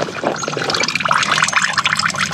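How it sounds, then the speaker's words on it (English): Distilled water drains from the cooling system of a 2008 Chevrolet Colorado during a coolant flush, a loud, steady splashing gush of liquid running throughout, close to the microphone. "So I have the distilled water draining out."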